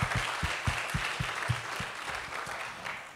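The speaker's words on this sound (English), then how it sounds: "Can we give a round of applause to the servants of the house," A church congregation applauds the servants of the house: a short burst of steady clapping with distinct rhythmic thumps running through it, fairly close and with no talking over it.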